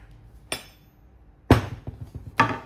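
Three heavy strikes from a 5 kg sledgehammer with an oak handle in hickory style, spaced about a second apart, each a sharp loud impact with a short ringing decay, no talking.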